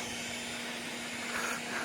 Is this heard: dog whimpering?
no